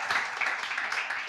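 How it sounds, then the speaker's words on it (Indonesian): A church audience at a Christian Bible class gives a brief round of applause, a soft, dense patter of many hands clapping for just over a second. "Sekali lagi tepuk tangan yang meriah buat"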